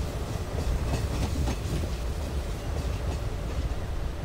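The Tuticorin–Mysore Express in the MSTS train simulator runs along with a steady low rumble and rhythmic clickety-clack of wheels over rail joints, continuous and moderately loud with no voices.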